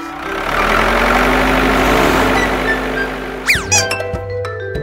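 A heavy excavator engine rumbles steadily at close range, then a brief clink and some rising chime-like tones near the end, with no talking.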